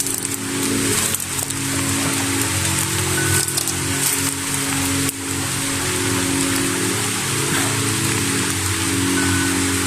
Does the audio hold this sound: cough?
no